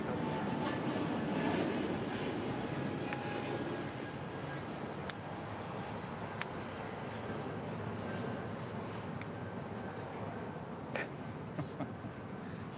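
Jet aircraft departing at Los Angeles International Airport, heard as a loud, steady broadband roar that fills the whole stretch without pause, with faint clicks and ticks scattered on top.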